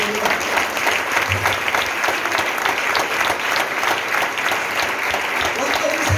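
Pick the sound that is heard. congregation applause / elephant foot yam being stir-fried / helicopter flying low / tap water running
congregation applause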